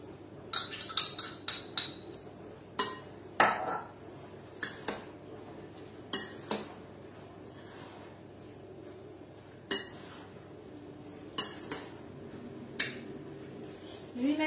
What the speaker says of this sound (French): Donc pendant que je mélange, je vais y mettre 3 cuillères à soupe